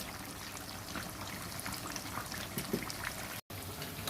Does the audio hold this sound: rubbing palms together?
no